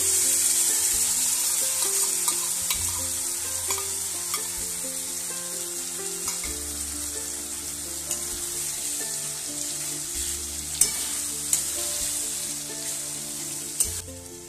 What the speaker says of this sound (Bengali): আগে থেকে ম্যারিনেট করা মেটেটা আমি এখানে ঢেলে দিলাম